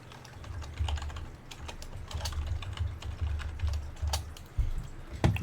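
Someone types on a computer keyboard with irregular clicky keystrokes, close by and fairly quiet, over a low background hum.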